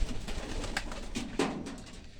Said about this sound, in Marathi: हे आपले कबूतर आहेत